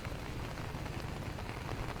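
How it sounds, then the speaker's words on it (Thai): A downpour in Vang Vieng, Laos keeps up an even, broadband wash of falling water, loud and unbroken, with no voices over it. "ก็ถือว่าตกหนักเลยฝนนะ"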